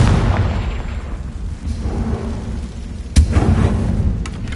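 A Confringo fire spell detonates in Hogwarts Legacy as a dense, rumbling blast with a sharp crack near the end, loud and close, with no talking.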